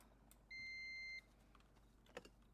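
A single sustained electronic beep from a household appliance like a coffee maker in The Sims 4, steady and clear for under a second over quiet game ambience, followed by faint clicks.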